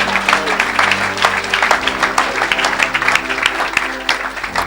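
Church congregation clapping for Jesus during an evangelistic service, a dense steady patter of many hands, fairly loud and close, with some voices mixed in beneath.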